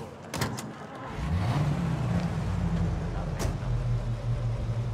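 A car being driven in Mafia: Definitive Edition, the engine starting up after a couple of clicks and then rising into a steady close hum with a shifting tone as it pulls away.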